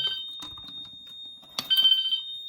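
A Grinnell/Autocall C-2224 fire alarm rings on bell code 3, a sharp electronic tone that pulses in short bursts, starting, pausing and resuming louder near the end, close by with no talking.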